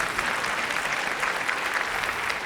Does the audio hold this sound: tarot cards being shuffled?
no